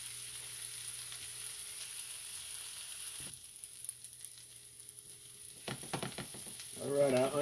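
Onions frying in a pan while cornbread tamale pie is made, giving a steady soft sizzle that drops after a few seconds, then brief clattering stirs and a louder crackle near the end, with no talking.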